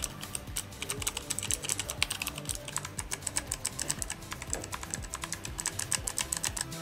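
Fast, steady typing on a Razer Huntsman Elite keyboard with optical switches, crisp keystrokes clicking in quick irregular bursts at close range.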